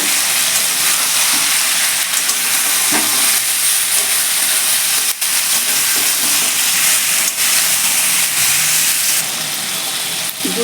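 Chopped tomato goes into a hot pan for a potato, pumpkin and pointed gourd chokka, making a steady loud sizzle and hiss with a few faint stirring scrapes and no pause throughout.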